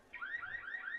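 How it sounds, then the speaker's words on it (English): A car alarm wails at a high school baseball game, its rising and falling siren cycling steadily and sounding faint and distant, with no talk over it. "Oh, there's somebody's alarm."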